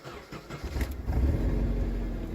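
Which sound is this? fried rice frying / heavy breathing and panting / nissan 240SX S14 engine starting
nissan 240SX S14 engine starting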